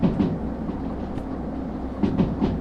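A train in the Derail Valley railway simulator rolls along the rails at moderate speed, with a steady low rumble and periodic clickety-clack wheel beats over the joints, loud and continuous.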